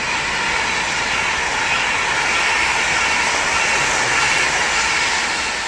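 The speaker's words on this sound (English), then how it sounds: "Virgin train." A Virgin train passes close by, a steady loud broadband rush of rail noise that holds evenly from start to finish with no pauses.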